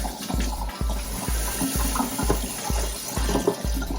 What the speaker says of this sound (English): I'm gonna just rinse the rest of this, rinse out the canister itself